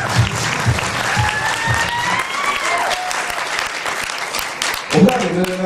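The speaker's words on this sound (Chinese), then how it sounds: "掌声鼓励一下" Audience applause at a motivational seminar, steady dense clapping from a crowd that carries on for several seconds, loud and close, with a voice briefly heard toward the end.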